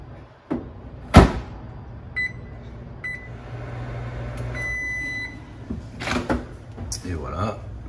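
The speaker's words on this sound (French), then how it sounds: "Et ensuite, c'est 2 minutes au micro-ondes" A microwave oven runs while heating a bowl of food, a steady hum broken by door clunks and short beeps, with a person talking in French over it.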